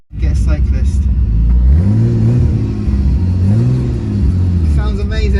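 A Nissan R33 Skyline on semi-slick tyres revs up loudly while driving, its engine note climbing in repeated rising sweeps as it accelerates through the gears, with some rattly noise and a little talk over the top.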